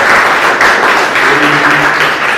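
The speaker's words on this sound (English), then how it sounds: "let's give ourselves a bigger round of applause" Classroom applause from students at the close of a university robotics course, a steady wash of clapping filling the room at even loudness for the whole stretch, with faint voices murmuring underneath.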